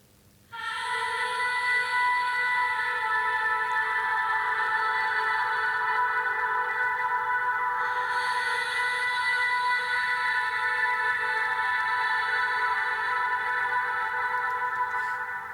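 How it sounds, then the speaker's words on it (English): A dance track vocal drowned in reverb, heard as the wet signal only, swells in after a brief pause into a sustained, washy, tonal drone that hangs evenly for over ten seconds, brightening partway through. "And then I drown the vocal in reverb."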